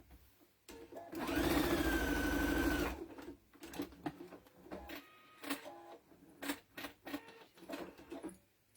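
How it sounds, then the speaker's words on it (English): A sewing machine stitches around an ant shape on a fabric tea towel in one loud, fast, whirring run of about two seconds, followed by quiet clicks and handling noises. "And then I'm going to sew around the little ant."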